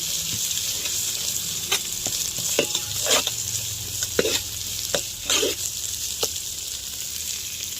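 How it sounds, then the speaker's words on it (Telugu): A spoon stirs masala with mint leaves in a hot pan for pulao and chicken curry, a steady close sizzle of frying under repeated scraping strokes, with no talking. "ఇదంతా బాగా మసాలా వేగిపోవాలి, పచ్చివాసన పోయే వరకు"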